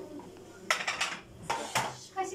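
Spoons and cutlery clink against dishes in a home kitchen while sulu köfte is being made, with a few short bright rattling bursts in quick succession, close by and fairly loud.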